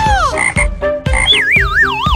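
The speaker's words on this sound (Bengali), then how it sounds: "এখন বিড়ালটি একটা ব্যাঙ শিকার করছে।" A frog croaks as a cat hunts it: loud, close, repeated croaks in quick bursts, some with warbling, wavering pitch, and no talking.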